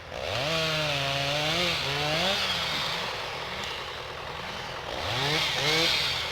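A chainsaw runs in a forest where trees are being felled, its engine whining and shifting in pitch as it revs and bogs down, loud and close, with a short steadier stretch in the middle.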